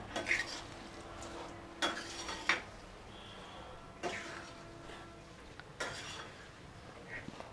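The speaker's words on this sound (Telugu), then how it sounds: "ఒకసారి బాగా కలుపుకోవాలి ఆ ఉప్పు కారం జీలకర్ర మెంతుల పొడి అదంతా కలాలి" Lemon pickle is stirred with salt, chilli powder, cumin and fenugreek powder, a spoon scraping and clinking against the dish in short separate bursts with quiet gaps between them, close by and with no voices.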